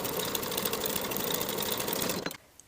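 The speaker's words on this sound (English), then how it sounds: "Sew the bottom edge of the pocket with a 3/8 inch seam allowance." A sewing machine hums along a 3/8 inch pocket lining seam at a steady close rattle, then stops abruptly near the end, leaving quiet.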